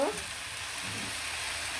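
Chicken pieces and potatoes fry for noodles in a pan, giving a steady, even sizzle that holds throughout at moderate loudness.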